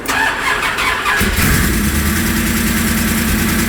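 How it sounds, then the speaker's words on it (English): A 502 big-block V8 in a converted ambulance cranks briefly and fires up, catching with a loud burst before settling into a deep, rumbling idle close by. "Fires right up, and it runs like a brand new car."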